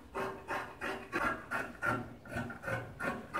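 Scissors cut excess fabric from the lower part of a gown in a steady series of about eight soft, rhythmic snips, quiet and close with no talking.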